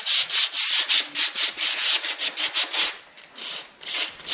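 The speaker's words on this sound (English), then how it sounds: "you're going to take a sanding block and just" Rhythmic back-and-forth sanding strokes with a sanding block on shiny spots of a beer-case miniature, about a dozen quick rasping passes close up, slowing slightly near the end, with no talking.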